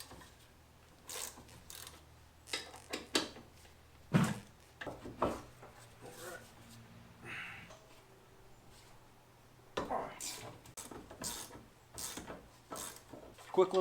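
Ratchet clicks come in short bursts while brake caliper and bracket bolts are loosened on a supercharged V6 Toyota, with metallic taps and quiet pauses between.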